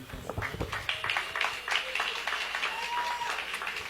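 An audience claps in steady, dense applause, with voices murmuring and calling out through it.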